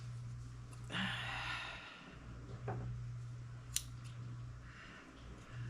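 Scissors clip through a thick sewn fabric seam on a skirt under construction, giving one close crunching snip followed by a fainter second cut, over a steady low background hum.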